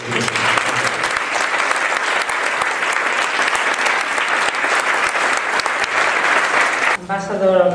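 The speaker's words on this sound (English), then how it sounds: "So please give me a great applause for Michelle Bachelet and the award that she received." An audience at a Gabriela Mistral Foundation anniversary event applauds Michelle Bachelet for her award, sustained close clapping filling several seconds before a voice begins speaking at the end.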